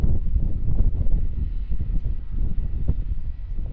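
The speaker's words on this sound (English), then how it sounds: "windy and it's awful" Steady outdoor wind buffets the microphone at Melbourne airport, a continuous low rumbling roar with no speech.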